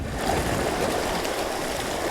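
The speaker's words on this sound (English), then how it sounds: "you can see the water rushing backwards and forwards" Sea water rushing back and forth over rocks on the Scottish coast at Findochty, a steady close wash of broadband surf noise with no voices.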